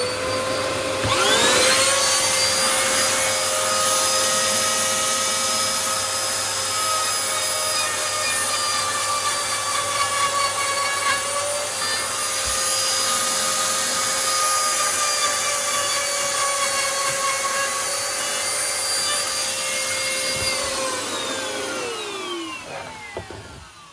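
A domino-style joiner cuts loose-tenon mortise holes in wood guided by a 3D printed jig, a loud sustained whine with shifting pitch running for about twenty seconds before winding down, close and alone.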